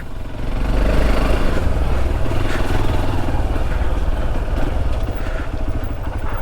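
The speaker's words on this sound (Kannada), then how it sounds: "ಬೈಕ್ ಬಂದಲ್ಲ ಇಲ್ಲಿಯವರೆಗೆ" A motorcycle engine rumbles steadily up close on a muddy forest trail ride, a constant low drone that neither fades nor breaks throughout, with no talking over it.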